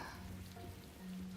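Rain falling in the video game Rain Code, a soft continuous hiss of rain on surfaces, faint and steady throughout.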